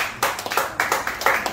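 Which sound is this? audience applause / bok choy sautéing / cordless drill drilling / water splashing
audience applause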